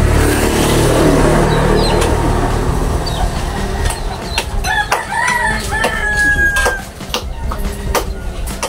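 Chickens cluck and a rooster crows close by over a steady noisy background, with squawks and a long crow standing out near the end.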